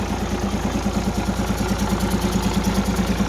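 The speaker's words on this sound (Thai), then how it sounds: "ติดเครื่องครับ P11C นะครับเสียงนิ่มๆครับ" A 320-horsepower P11C diesel engine idles after starting, giving a steady low rhythmic chug with a fine mechanical clatter, close and even throughout, with no voices.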